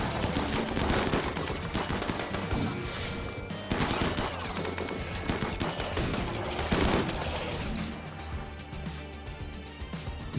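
Dense, rapid gunfire from the video game RimWorld crackles in overlapping volleys and sustained bursts, loud and continuous throughout.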